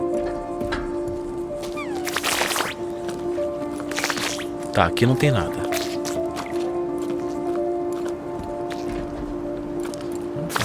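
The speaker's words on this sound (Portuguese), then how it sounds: "Parece som de água, hein?" Wet dripping and squishy liquid sounds in the Jusant video game, scattered drops and splashes over a constant low ambient hum, with someone talking throughout.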